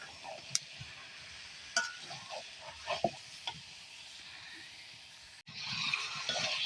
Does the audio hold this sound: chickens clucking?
no